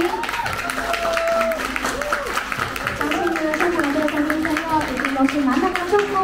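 Guests at a wedding banquet applaud to welcome the bride's host, with steady crowd clapping continuing beneath amplified voices and music throughout.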